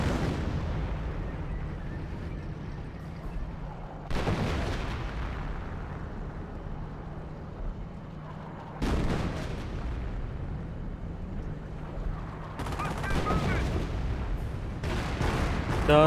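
Sniper shots and anti-tank gun fire in Company of Heroes: heavy booming blasts at irregular intervals, each rolling into a long rumble over constant battle noise, loud and with no talk.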